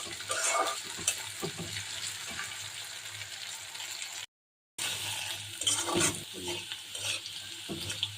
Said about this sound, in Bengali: তো রসুনটা লাল লাল করে ভাইজা নিতেছি।